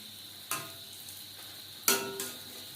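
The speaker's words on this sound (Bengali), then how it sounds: "বড়া ভাজবো মিডিয়াম ফ্লেমে।" Lentil fritters (bora) frying in oil over a medium flame give a soft steady sizzle, broken by three sharper bursts of sizzle and spatter as pieces are dropped in or turned.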